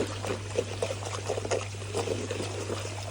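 Boiling water is poured to mix a pond treatment, a soft splashing trickle over a steady low electrical hum, brief and fairly close.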